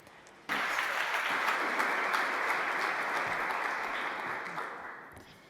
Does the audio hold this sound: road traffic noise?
no